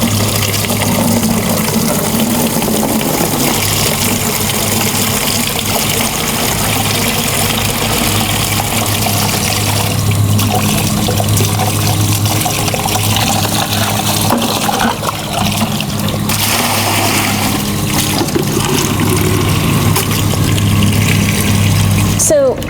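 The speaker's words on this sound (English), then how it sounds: "just bear with me as I turn on the hot water here" Hot water runs steadily from a tap for cleaning a cut, a continuous broad splashing rush with a low hum underneath, close and constant throughout.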